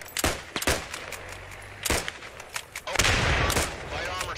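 Gunfire in the World War II shooter Post Scriptum: several sharp rifle shots crack close by, then a denser burst of shots joins a rumbling firefight, with a player talking between them.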